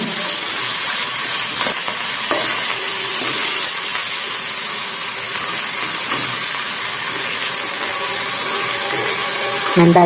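Fenugreek leaves for poha fry in a pan as they are stirred, producing a dense, steady hiss of sizzling with faint scraping, close and unbroken throughout.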